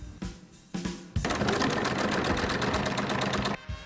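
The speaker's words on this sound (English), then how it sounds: "And then I'm going to sew all the way around." A sewing machine stitches around a fabric bag, starting with a couple of short stop-start runs and then a steady, fast rhythmic clatter of needle strokes for about two and a half seconds before it halts.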